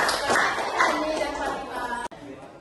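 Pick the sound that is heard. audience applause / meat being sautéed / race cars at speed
audience applause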